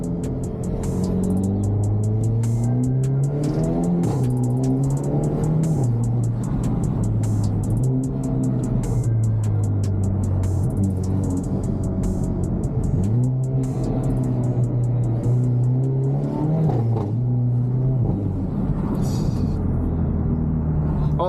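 Cabin view from a Hyundai Elantra N on the road, the turbocharged engine droning and rising and falling through gears with a deep steady rumble and faint whistle, continuous and close throughout.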